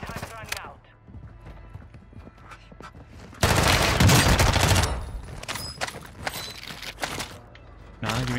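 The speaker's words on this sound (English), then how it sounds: "Oh my god, what were those shots?" Gunfire in the video game Warzone 2 comes as a sudden, loud burst of rapid shots after a quieter stretch, followed by scattered sharper cracks, with a voice talking over the game.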